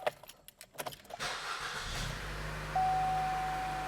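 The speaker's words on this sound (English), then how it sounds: "So if I start the car up" A car is started with a few keyed clicks and rattles, then the engine catches and settles into a steady low idle, with a tone from the dashboard joining partway through.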